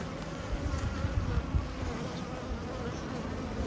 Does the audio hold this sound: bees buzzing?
yes